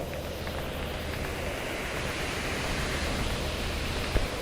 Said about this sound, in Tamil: இன்னும் காற்று வேறு அடிக்கிடுங்க